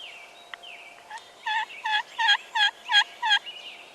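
Wild turkey gobblers gobble repeatedly in the open during a spring hunt, a run of six loud, rattling bursts in quick rhythm after a few fainter calls, fairly close and with no talk.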